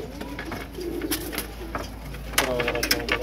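Pigeons coo in soft bursts among flying pigeons, with scattered sharper calls and rustling, close and moderately loud over a low background hum.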